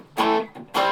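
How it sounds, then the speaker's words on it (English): Electric guitar through a Klon Centaur copy pedal set for mild distortion, two short overdriven strums or chords with a brief pause between, loud and close. "It's a sort of mild distortion."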